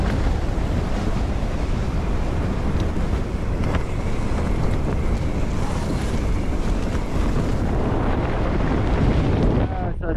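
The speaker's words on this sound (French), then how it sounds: "Chaque rafale est plus forte que la précédente." Strong winter wind gusts sweep the Icelandic highlands at a bikepacking camp, a constant loud roar with heavy buffeting against the microphone and no letup.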